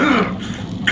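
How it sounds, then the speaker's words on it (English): A Gears of War 2 character gives a rough, throaty cough, one short raspy burst that is close and loud with no talking. "I'm coughing up blood that ain't mine."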